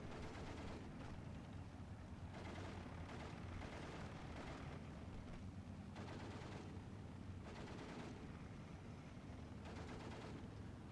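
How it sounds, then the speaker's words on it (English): Katyusha rocket artillery and 120 mm mortar fire in the wartime strategy game Steel Division 2, a dense, continuous roar of launches and blasts with repeated loud bursts across the whole stretch, no voices over it. "We see the Katusha firing here does fail to do anything."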